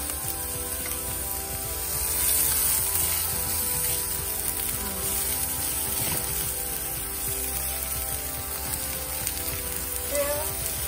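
Red onion sizzling in a hot pan while cooking Mì Quảng noodles, a steady, close frying hiss that runs throughout with no voices.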